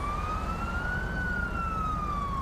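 A loud, close Australian police siren from a VF SS Highway Patrol car in LSPDFR, climbing into one long wail that peaks midway and then slowly falls, heard on its own without voices.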